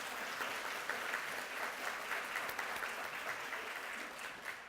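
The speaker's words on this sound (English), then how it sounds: "You can applaud here." Steady audience applause at a University of Hawaii at Manoa awards ceremony in 2014, an even wash of clapping from a seated crowd that holds at the same level throughout, with no voices over it.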